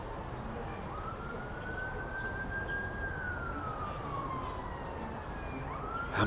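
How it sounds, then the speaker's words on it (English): An ambulance siren wails from the nearby M27 motorway beyond a cricket ground, a faint distant rising and falling tone over steady crowd and ambient noise. "Ambulance perhaps on the M27."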